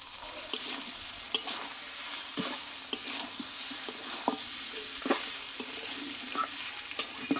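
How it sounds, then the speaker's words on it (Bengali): Mutton sautéing in a pan for a Bengali curry, with a steady sizzle and frequent sharp scrapes and clicks of a spoon stirring against the metal, close and moderately loud. "দেখো মটনটা কিন্তু সম্পূর্ণই ভালোভাবে কষিয়ে নিয়েছি"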